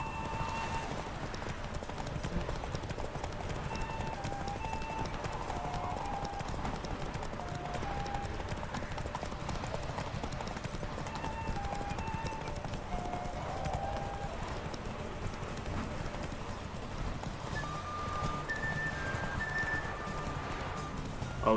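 Horse hooves gallop steadily in The Witcher 3 video game, a continuous fast clip-clop rhythm under a dense game soundscape, fairly faint and even throughout.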